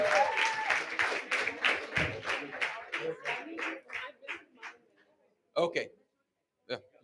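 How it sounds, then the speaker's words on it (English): A community event audience gives scattered applause, distinct claps fading and thinning out after a few seconds into a few isolated late claps. "Big round of applause for all of our sevaks."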